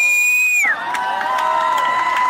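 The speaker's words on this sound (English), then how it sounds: "You guys are good at cheering" An audience at a children's advocacy day event bursts into cheering and whoops after a tone cuts off, a crowd of voices carrying on loudly for a couple of seconds.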